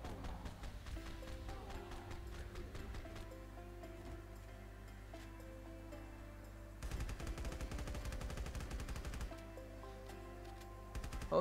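Guns fire at waves of zombies in the video game Death High: dense, continuous rapid shooting that swells louder near the middle before settling back into a steady barrage.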